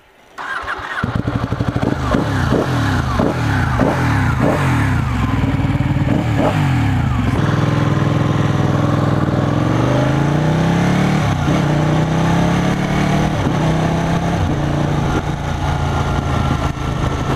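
A 2015 Ducati 899 Panigale motorcycle ridden hard, its loud close engine revving up through a quick series of gear changes, then pulling in long rising and falling sweeps under steady wind roar.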